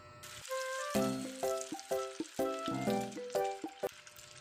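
Chili and bay leaves frying in cooking oil, a steady close sizzle with bursts of crackling and spatter, no voices.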